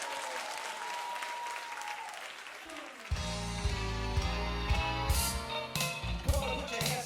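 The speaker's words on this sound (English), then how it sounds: "Give him as much applause as you gave everybody else." Audience applause at a guest talent show aboard the Soul Train Cruise, a broad wash of clapping with some crowd noise that builds sharply about halfway through and then stays loud and steady, with music sounding beneath it.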